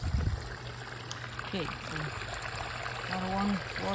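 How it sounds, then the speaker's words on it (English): Water trickles steadily into a DIY pool and pond filter built from a stock tank, a soft continuous flow heard up close, with a voice speaking briefly over it. "water going in."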